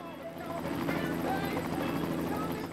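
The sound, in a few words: helicopter ride in the video game Go Vacation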